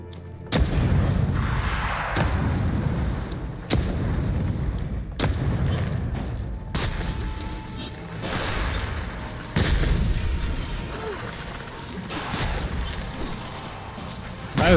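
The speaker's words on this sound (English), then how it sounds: "Let's use some of our bombs." Bombs exploding in the fantasy video game Avowed, a series of heavy booming blasts spaced a second or two apart, each with a deep thud and a rumbling tail, loud and close.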